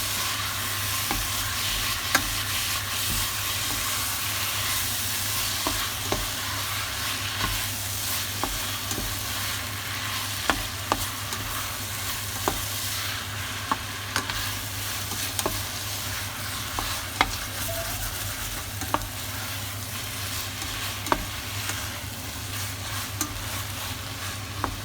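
A mixture with smoked fish sizzles steadily in a pan as it is stirred, a continuous close frying hiss dotted with small irregular spatula clicks.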